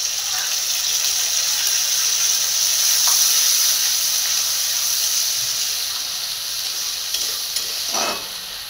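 Tomato paste sizzling in a frying pan: a steady bright hiss of frying close by, with a couple of brief stirring scrapes near the end.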